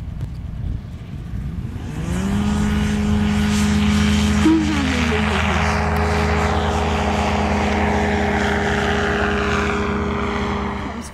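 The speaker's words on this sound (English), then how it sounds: "Here's Carl on a solo flight, September 20th, 2022" A REV X light aircraft engine on a solo flight, rising from a low rumble into a steady propeller drone with a brief pitch shift as it passes, loud and sustained with no talk.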